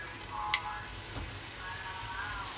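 Butter melts into a pan of sun-dried tomato pasta sauce for fettuccine, giving a soft, steady sizzle with a single sharp clink partway through, close but quiet.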